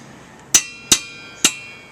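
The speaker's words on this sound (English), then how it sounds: "Now I'm going to carefully flatten the ends about 1 inch up using my hammer" Three sharp, ringing hammer blows flatten metal ends on a wooden stump, evenly spaced and loud, each with a short metallic decay and near-silence in between.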